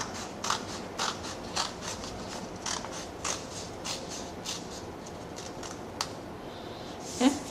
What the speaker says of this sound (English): Now I'll take my scissors